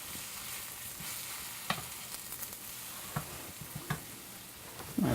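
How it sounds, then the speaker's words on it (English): Sweet potato sautéing in a pan gives a steady low sizzle, with a few sharp scrapes and clinks as it is stirred at intervals and a louder knock at the end. "been probably sauteing here for about 2 or 3 minutes"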